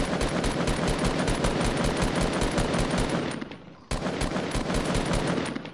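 Rapid, loud automatic gunfire in the Fortnite battle royale game, a continuous rattling stream of shots that briefly fades and cuts out near the middle before resuming at full strength.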